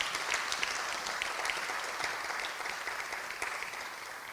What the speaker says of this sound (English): Big, massive round of applause to CY once again.